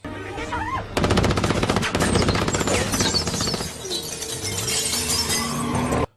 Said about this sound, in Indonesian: Susan dengan cepat menyelamatkan Raina dari tembakan itu